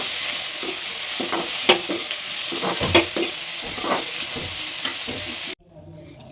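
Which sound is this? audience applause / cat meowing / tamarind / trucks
tamarind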